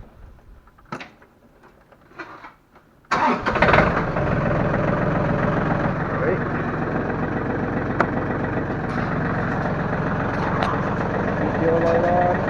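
A John Deere 4310 tractor engine cranks and catches, then settles into a steady, loud, close idle that runs on after a few faint knocks.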